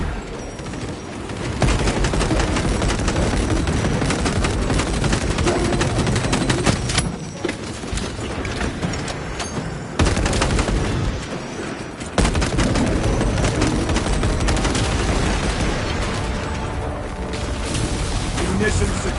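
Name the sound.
gunfire in video game Space Marine 2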